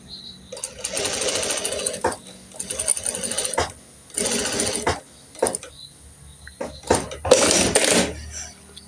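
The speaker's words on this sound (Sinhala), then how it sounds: "දාගෙන අපි මේ විදිහට මහගෙන යනවා." A sewing machine stitches a welt pocket, running in several bursts of rapid, even mechanical rattling with short pauses between them and quiet clicks in the gaps.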